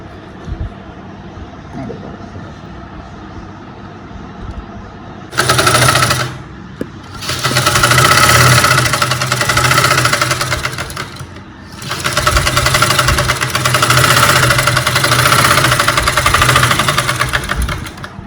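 A sewing machine runs in loud bursts as it stitches a lining top, a rapid mechanical rattle that starts, pauses briefly, resumes for several seconds, dips and then runs again, with quiet room sound before the first burst.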